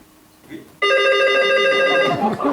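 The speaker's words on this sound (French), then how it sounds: "J'ai cru entendre le téléphone." A loud, sustained telephone bell rings for over a second in a home after a faint murmur, then stops as a voice begins speaking.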